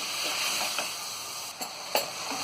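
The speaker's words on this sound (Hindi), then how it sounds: "और कीमे को हम 4 से 5 मिनट पकाएंगे।" Mutton keema frying in a pan, a steady close sizzle with faint stirring scrapes and a few brief louder clicks of a utensil, no voices.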